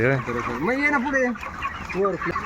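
Chickens at a poultry farm cluck and squawk up close in a busy, overlapping chorus of rising and falling calls.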